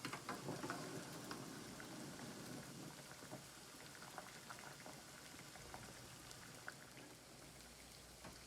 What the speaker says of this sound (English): helps bring the water to boil faster